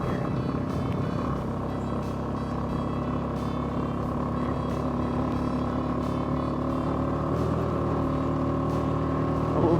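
A motorcycle engine pulls steadily in third gear while climbing a high mountain road above 9,000 feet in the Colorado or New Mexico backcountry, a continuous loud drone with wind rush, holding near constant throughout with no talk.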